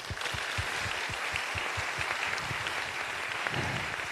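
An audience at a JAXA symposium claps steadily for the panelists, a dense, even wash of applause heard alone at moderate distance.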